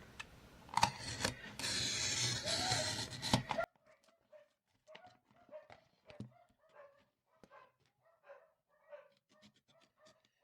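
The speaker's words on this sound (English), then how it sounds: "I don't know what's going on with them dogs." Dogs bark in short, scattered bursts, faint and somewhat distant, after a loud burst of crinkling and rustling at the start; the barks come irregularly over the rest of the quiet stretch.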